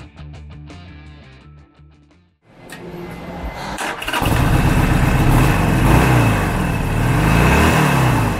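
A 2019 Harley-Davidson Sportster Forty-Eight with a 1200cc Evolution V-twin cranks and catches: quiet shop sounds, a short silence, then the starter whirs and the engine fires into a loud, steady, lumpy idle up close.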